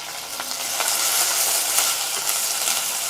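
Coriander seeds, cumin, coriander leaves and curry leaves fry in hot oil, giving a close, continuous crackling sizzle with scattered pops and faint stirring scrapes, with no voices.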